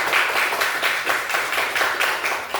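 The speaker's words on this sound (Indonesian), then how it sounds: "Beri tepuk tangan untuk kelompok 1" Applause for a student group at an Indonesian teacher-certification performance exam, a steady, moderately loud patter of many hands clapping in pulsing waves throughout, with no talking.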